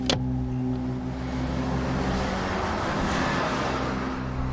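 A car engine running with a steady low rumble and whine, a sharp transient at the start, sustained and fairly loud throughout, no clear tire screech standing out.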